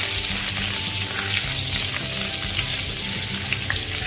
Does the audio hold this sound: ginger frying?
yes